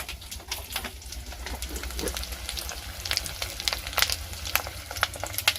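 Rohu fish roe fries gently in oil over a low gas flame in a village kitchen, a quiet sizzle with scattered crackling pops that grow sharper and busier toward the end.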